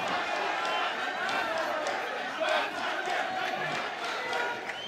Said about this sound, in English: The crowd is going wild out here in Dubai.